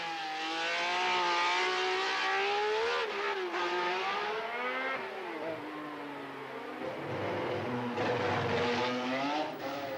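Several Formula One race cars roar by at high revs, including Clay Regazzoni's number 7 Ferrari, their engine notes rising and falling steadily through the whole stretch with no talk.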